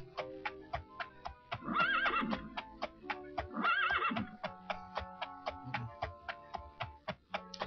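Horse riding in the video game Daggerfall: rapid, evenly spaced clip-clop hoofbeats with two loud whinnies partway through, clear and close.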